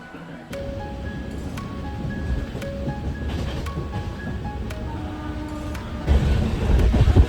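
Passenger train running at night on the line toward Bandel Junction, a steady broadband rumble with faint tonal whines and periodic clicks from the wheels, louder rattling toward the end.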